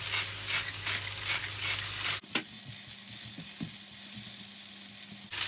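Salted chopped leeks hit a hot pan and sizzle while being stirred, a steady frying crackle joined by a few sharp clinks and scraping knocks of a utensil partway through.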